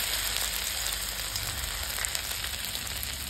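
Dry red chilies, bay leaves and ginger sizzle in hot oil with a steady, dense crackle that stays loud and even throughout, with no voices.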